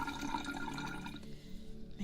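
A dense cinnamon potion is poured from one vessel into another, a close, steady liquid splash and trickle that tapers off into a quieter drip before a last small splash.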